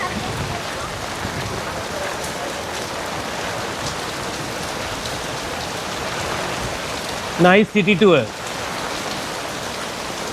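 Steady rain falls on a street as a dense, constant hiss throughout, with a person speaking briefly near the end over the downpour.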